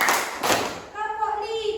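Children in a classroom clap in unison on a spoken count, giving a couple of sharp, close bursts of hand claps. A voice follows right after them.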